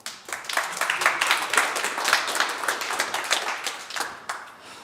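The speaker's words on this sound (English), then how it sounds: "give him a warm welcoming applause" A conference audience claps to welcome a speaker on stage, a thinner, uneven patter of individual hand claps that swells, then tapers off toward the end, moderately close.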